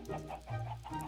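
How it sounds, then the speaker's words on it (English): Chicken clucking in a video game: a few quick, close, tonal clucks in a short rhythmic burst with no talking. "You did not just hear a chicken die in the furnace."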